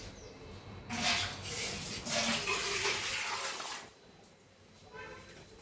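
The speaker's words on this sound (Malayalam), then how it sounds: "കുറച്ച് വെള്ളം കൂടി ഒഴിച്ച്" Water is poured into a pressure cooker already holding milk for moong dal payasam. A close, rushing splash lasts a few seconds and then tapers off.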